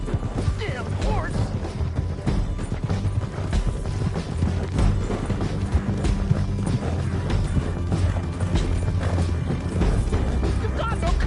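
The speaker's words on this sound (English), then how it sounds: "Damn horse!" Horse hooves clip-clop in a PS4 video game, a steady rhythmic patter under a busy mix of game music and clattering action, with voices shouting over it.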